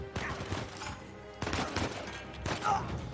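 Gunfire in the video game Uncharted 4, bursts of rapid shots in two clusters separated by a brief lull, fairly close and loud, with a voice briefly heard among the shots.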